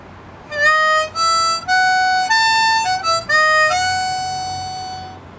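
Harmonica in E plays a short melodic variation on the intro riff of a song, a run of clear sustained reedy notes with a few quick breaks, ending on a long held note that slowly fades, played solo.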